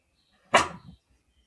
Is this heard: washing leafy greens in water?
no